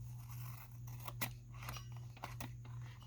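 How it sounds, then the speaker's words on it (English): Scissors snip washi tape trimmed on an upcycled junk mail envelope, a few close, crisp cuts standing out over a steady low hum with no talk. "Let me trim this off so I don't stick it to my arm again"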